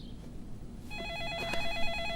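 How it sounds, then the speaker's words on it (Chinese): A telephone rings indoors in a quiet room, its repeated warbling electronic tone starting partway through and continuing steadily at moderate volume, with no one speaking. "我去接个电话。"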